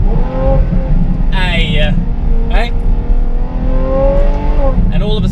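Ferrari F12 fitted with an Innotech IPE exhaust revving hard, a loud, steady engine roar with rising pitch sweeps as the revs climb, with someone speaking briefly over it.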